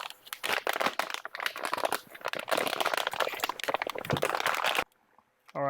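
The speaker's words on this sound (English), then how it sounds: "we're just going to go ahead and cut into this plastic, get here into the roll" Plastic wrapping around a roll of 3D printer filament being cut open and handled, giving dense, close crinkling and crackling for about five seconds before it stops abruptly.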